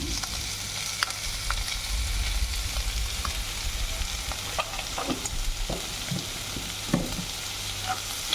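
Pork stir-fries in a pan with turmeric and salt for an Assamese dish with lai greens. A continuous sizzle runs the whole time, with scattered scraping and clinking as the meat is tossed. No one talks.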